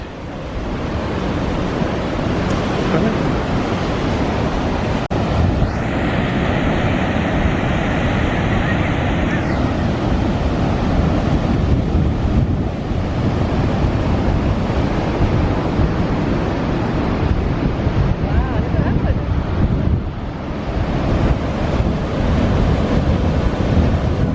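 Ocean surf breaking steadily on a rocky Lanzarote shore, a loud continuous roar of waves with wind buffeting the microphone and a person talking partway through.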